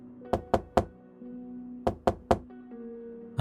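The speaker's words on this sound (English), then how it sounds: "Around 2 a.m., I was jolted awake by a knock." Two bursts of three soft, evenly spaced knocks on a door in the middle of the night, fairly close and hollow, separated by a short pause in a quiet room with faint background hum and no talking.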